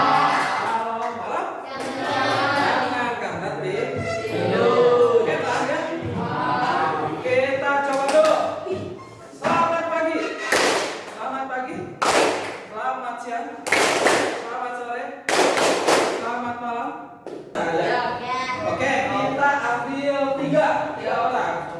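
Classroom students clap their hands together in short, loud bursts, each sharp round of claps answering a teacher's spoken greeting, with talking between the bursts.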